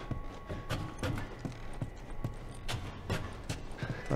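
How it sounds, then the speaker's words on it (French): Horse hooves clip-clop in a steady walking rhythm in The Last of Us Part 1 game, with regular, fairly close hoof strikes and no talk over them. "Un cheval, utilise-le."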